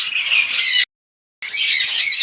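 Masked lovebirds in a breeding setup give loud, harsh squawks in two close bursts separated by a short silence, with no voices.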